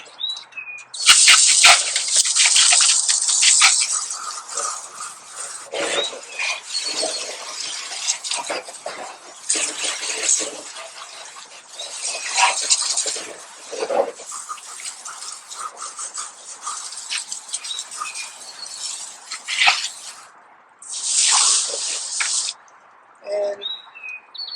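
Water from a hose sprays onto car wheels in uneven bursts, a hissing splatter that starts and stops several times, close up with no talking.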